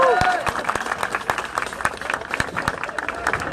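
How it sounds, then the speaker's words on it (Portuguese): A crowd at a political rally applauds for Sara Winter, a dense burst of clapping with scattered cheers and crowd noise, loud and sustained, with voices mixed in. "A salva de palmas para a Sara também"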